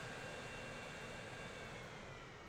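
A steady, faint broadband jet roar from a Virgin airliner in the Transport Fever 2 game holds even throughout, with no voices.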